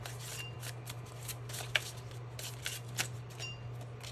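Oracle cards being shuffled by hand during a tarot reading, a steady soft riffling and slapping with a few sharper card snaps, close and alone over a low electrical hum.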